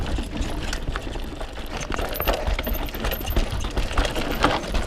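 A 2016 Intense Spider 275c Pro mountain bike rattles and clatters over a rough trail, a continuous dense jangle of chain and frame noise mixed with wind, close and fairly loud throughout.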